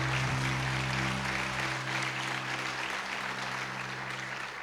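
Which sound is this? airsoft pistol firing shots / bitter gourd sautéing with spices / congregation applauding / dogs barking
congregation applauding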